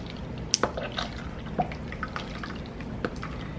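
Barbecue-style dressing for a New Orleans shrimp sauce is poured into a measuring cup, giving scattered soft drips and small liquid splashes over a quiet room background.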